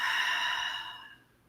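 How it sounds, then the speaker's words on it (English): One deep, slow exhale through the nose during a calm breathing exercise. It is close and breathy and starts fairly strong with a slight whistling tone, then fades smoothly to silence. "take a deep breath in through your nose and exhale"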